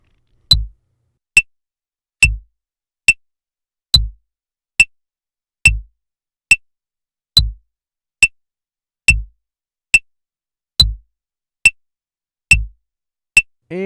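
Half-note drum beat programmed in the Soundtrap online studio: sharp, evenly spaced hits alternating a low-thumping stroke with a lighter click, steady and mechanical, loud and alone with silence between them.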